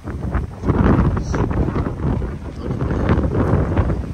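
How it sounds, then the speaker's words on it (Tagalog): Strong wind buffets the microphone in a steady, loud roar with gusty surges throughout, outdoors in snow in South Korea, no clear voices over it. "Lakas ng hangin dito."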